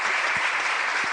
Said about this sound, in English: Give these guys a round of applause here because this was a show.